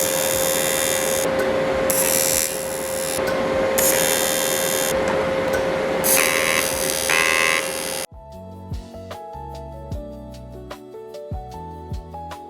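Steady buzzing crackle of a TIG welding arc on turbo intercooler piping for a BMW E36 M42 build, running continuously with brief pauses, then stopping and giving way to quieter clicks and handling sounds.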